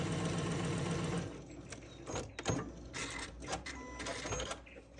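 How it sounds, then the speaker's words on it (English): Sewing machine stitching a quarter-inch seam on a churn dash quilt block, a steady close mechanical whir that drops briefly mid-stitch and resumes with fabric handling noises. "We'll just sew all the way down."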